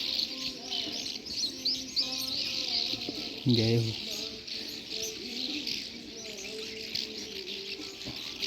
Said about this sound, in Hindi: कितनी सारी, इनका घर ये पुल के नीचे ही होगा चिड़ियों का